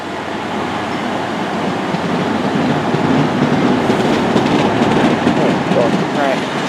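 A Great Western Railway train pulls out of Reading station with loud, close rumble and rhythmic wheel clatter. The noise swells steadily, with faint squeals near the end.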